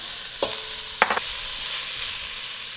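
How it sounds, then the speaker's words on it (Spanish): Chicken and onion stir-frying in a pan for chop suey, a steady broadband sizzle with a few sharp clatters of a utensil against the pan near the middle, no voices. "Ahora vamos a agregar nuevamente el pollo con la cebolla."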